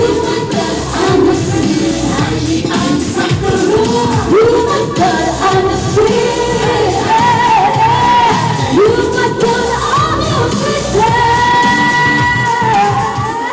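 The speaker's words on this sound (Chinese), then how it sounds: "所以我们以热烈掌声来欢迎" Crowd cheering and loud applause with yells and whoops at a temple anniversary celebration in Keelung, Taiwan, welcoming a Golden Melody Award-winning Indigenous singer; dense, sustained and close throughout, with music-like tones underneath.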